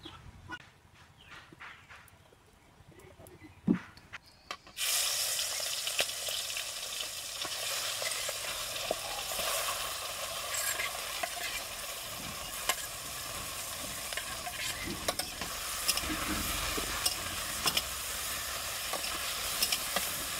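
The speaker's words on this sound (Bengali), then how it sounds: "এখন মাছগুলো ভেজে নেব। তো কড়াইতে একটু সরিষার তেল দিয়ে দেবো।" Hot mustard oil sizzles and crackles steadily as prawns fry after a quiet start, with occasional stirring and scraping clicks, close and fairly loud.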